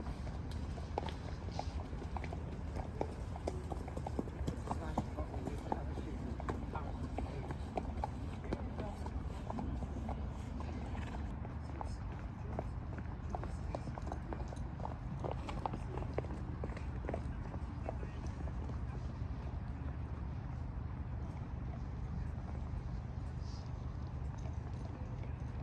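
Horses walk past at Kempton Park racecourse, their hooves clip-clopping in a steady, continuous rhythm on the path toward the parade ring, with crowd murmur and voices in the background.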